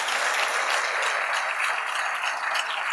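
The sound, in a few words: audience clapping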